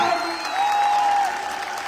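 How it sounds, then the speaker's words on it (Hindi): Audience applause at a business gathering: a sustained wash of clapping across the whole short stretch, with a thin, steady high-pitched tone running over it. "यार, तुम कैसे लोग हो, कैसे ताली बजाते हो?"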